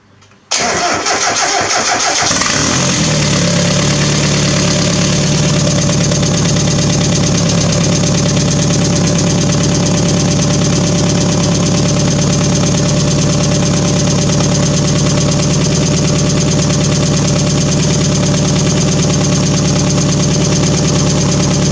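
A freshly rebuilt forged engine in a Mazda Miata cranks and fires, then settles into a steady, loud, continuous idle with a constant drone held for about twenty seconds, no voices over it.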